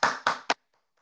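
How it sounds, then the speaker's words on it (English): Three sharp hand claps from someone on an online parenting call, close and fairly quiet, each decaying quickly, followed by near silence. "Please give her a round of applause"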